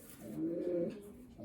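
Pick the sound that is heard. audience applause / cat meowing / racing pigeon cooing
racing pigeon cooing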